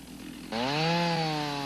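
A Stihl chainsaw felling a tree starts abruptly and runs at a loud, steady high rev, its engine note sliding slightly lower as the chain bites into the trunk, heard close and alone.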